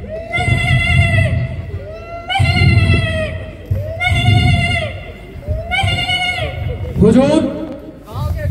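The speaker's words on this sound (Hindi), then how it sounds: "हुजूर, गांव के गरीब औरत की एक बकरी ले आया हूँ" A goat bleats repeatedly on a college stage during a student play, four or five long wavering cries in steady succession, loud and close, with a final shorter bleat and stage noise beneath.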